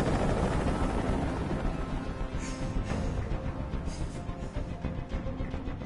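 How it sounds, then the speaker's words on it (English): A helicopter hovering overhead in the video game Detroit: Become Human, a dense, constant low rotor rumble and wash that fills the whole stretch without letting up, loud and steady with no voices. "I can't stand that noise anymore. Tell that helicopter to get out of here."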